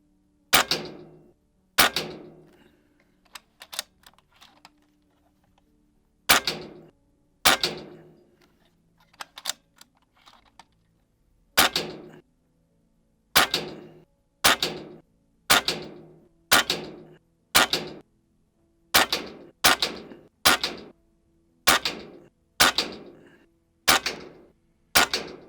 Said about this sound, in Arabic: الآن معنا كوميتا أدفانس في ميدان الرماية، راح نجربها سوا